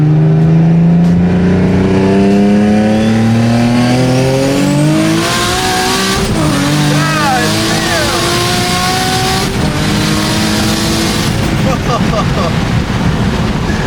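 Big-turbo Nissan 350Z accelerating hard on a pull, engine note climbing loud and close through rising revs, with a brief dip and gear changes before the pitch climbs again, a strained roar filling the cabin.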